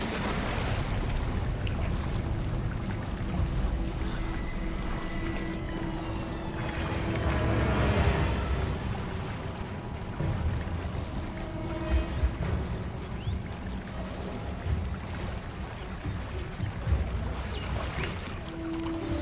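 Water churns and washes in Hogwarts Legacy, a continuous rushing, surging wash with breezy noise and faint tonal game ambience layered over it, no voices.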